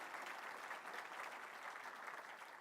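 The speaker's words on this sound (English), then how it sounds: "Let's give our team water polo player a big round of applause." Steady, dense applause from a conference audience continues throughout, even and sustained at moderate distance with no voices standing out.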